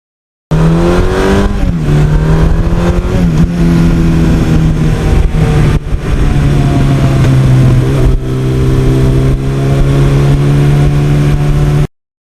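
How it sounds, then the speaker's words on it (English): A 1982 Suzuki GS1100E motorcycle engine with a non-stock 1986 exhaust rumbles steadily up close with a deep, throaty sound, rising and falling as it revs, loud and continuous with no talking. "I like the rumble of this just a little bit more"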